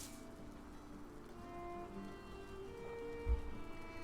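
Rain falling in the video game Valheim, a faint, steady patter under a low ambient hum, continuous with a brief soft thump near the end and no speech.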